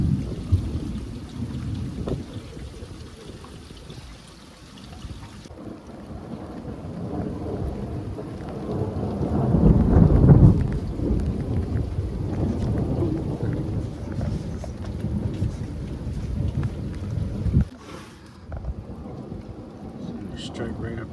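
A 2025 thunderstorm with high winds: steady rain and rumbling thunder that swells into a loud roll mid-way, with people talking excitedly over the storm noise.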